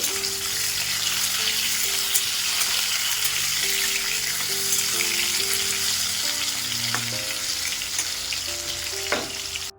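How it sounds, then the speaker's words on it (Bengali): Potatoes fry in hot oil with a loud, steady, close sizzle that runs on unbroken, while faint low tones hum underneath. "আলুটাকে একটু সুন্দর করে ভেজে নেব"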